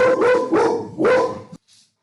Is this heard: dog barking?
yes